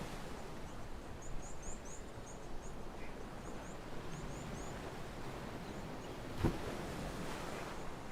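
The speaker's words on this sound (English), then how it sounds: "Lovely to just listen to the sound of the waves here at Stony Point" Ocean waves wash steadily on the shore at Stony Point, a constant broadband roar of surf with faint bird calls above it and a brief louder gust near the end.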